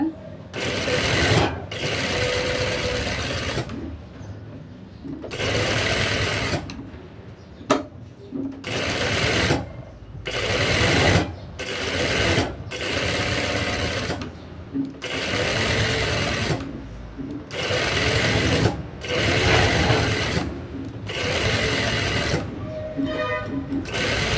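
A sewing machine runs in repeated bursts of rapid mechanical stitching on a blouse, each run a few seconds long and separated by short pauses, loud and close.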